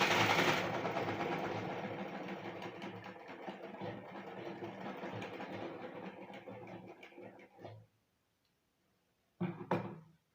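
A sewing machine stitches a pillow cover in a steady, fast mechanical run that gradually slows and stops near the end, followed by a short burst of stitching after a brief pause.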